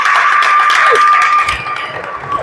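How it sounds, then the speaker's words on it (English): Students at a school outreach event in Uganda clap together in a loud, dense burst of applause with some cheering. It fades a little toward the end. "Give yourselves a round of applause."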